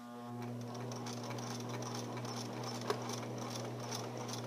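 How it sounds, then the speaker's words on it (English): A sewing machine back stitches along a fabric seam, giving a steady, close mechanical hum with rapid needle chatter and a single brief click partway through. "now I'm ready to back stitch"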